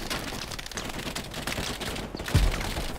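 Dense, continuous gunfire fills a battle in the World War II shooter Hell Let Loose, with overlapping rifle and machine-gun bursts near and far and a heavy low thump near the end, no speech.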